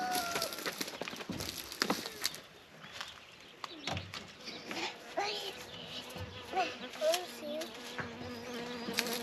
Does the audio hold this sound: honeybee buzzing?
yes